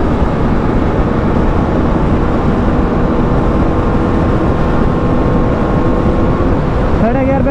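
A Husqvarna Vitpilen 250 motorcycle engine in fifth gear during a drag race against an NS400, a loud, steady, close drone with dense wind buffeting and a slight pitch change near the end.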